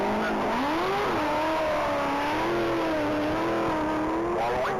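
An 830-horsepower Chevrolet Camaro accelerates hard on a standing-mile top-speed run, its engine note climbing steadily through the gears as a loud, continuous roar with no talk.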